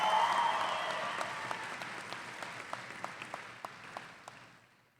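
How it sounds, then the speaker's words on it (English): Applause for graduates at a college commencement ceremony, a broad wash of clapping that fades gradually over a few seconds, with a few scattered individual claps near the end. "how about a round of applause, students and graduates?"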